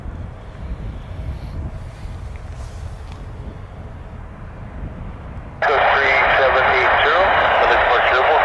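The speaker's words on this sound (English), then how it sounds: "For takeoff in an Embraer E175" An Embraer E175 regional jet takes off at Vancouver airport. A low, distant rumble under wind gives way to a sudden, loud, sustained roar as the engines power up.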